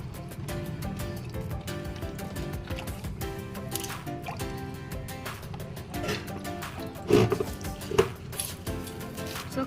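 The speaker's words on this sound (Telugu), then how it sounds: "కల్లుప్పు వేసేసి అలా రుద్దాలన్నమాట." Fish pieces rubbed with coarse rock salt while being washed for Telugu chepala pulusu fish curry, giving steady wet squishing and dripping with a couple of sharper splashes near the end.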